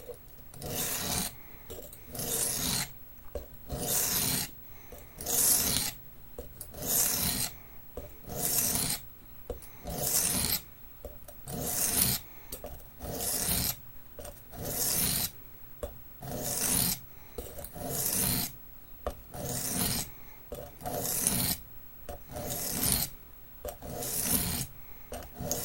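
A blade is drawn across a sharpening stone in steady, evenly spaced rasping strokes, roughly one a second, close and fairly quiet, continuing without any voices.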